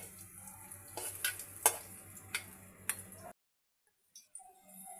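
Dried red chillies hit hot oil for a cucumber roti chutney, giving a crackling sizzle with sharp pops and clinks for about three seconds before the sound cuts to near silence, then a few faint ticks.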